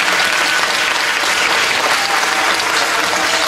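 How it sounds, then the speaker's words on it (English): An audience at a sixth grade band concert claps in a dense, sustained round of applause, loud and even for several seconds with no voices rising above it. "Let's give him a round of applause."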